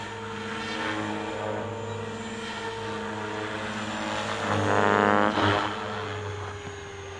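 A JR Propo Forza 450 RC helicopter flies in an evening session, its steady whining rotor and motor tone holding throughout and swelling louder and higher as it passes close around the middle, then easing off again.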